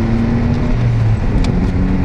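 Mitsubishi Galant VR4 twin turbo accelerating hard in third gear, a loud, steady low engine roar heard from inside the car, close and sustained without speech.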